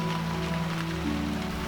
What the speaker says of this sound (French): Aujourd'hui, il pleut à verse dans mon jardin